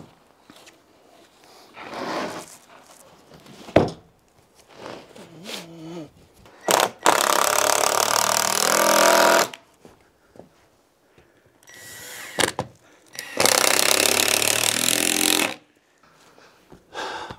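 Power saw cutting boards while building a brooder for baby chicks, two loud sustained cutting bursts of a few seconds each, separated by quieter handling knocks and clatter.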